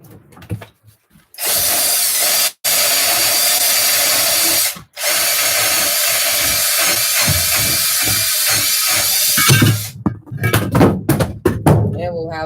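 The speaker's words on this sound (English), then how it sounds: "So throw this in the vise" Wood clamped in a vise is cut with a loud, continuous power-tool whine that starts and stops abruptly. Scattered knocks and clatter follow, and a person talks near the end.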